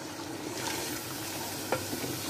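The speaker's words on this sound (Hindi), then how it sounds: "इसको अच्छे से हम भूनेंगे अपने मसाले को" Gosht masala spices frying in a pan for achar gosht, with soft sizzling under stirring and scraping, faint and close, plus a single sharper scrape near the end.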